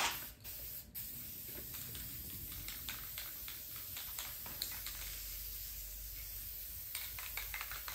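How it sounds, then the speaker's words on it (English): Spray paint hissing from a can while white markings go onto a Jeep M38A1, a continuous soft close hiss broken by short bursts and pauses, quiet and without talk. "You don't wanna be spraying super, super heavy on all this stuff."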